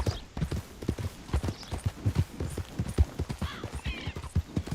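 Horse hooves clip-clop in a steady rhythm in a video game, close and fairly loud, with a faint whinny-like sound at times and no speech over it.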